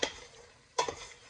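Onion and curry stirred together in a hot pan, with faint sizzling and two soft scraping strokes of a utensil, quiet and close.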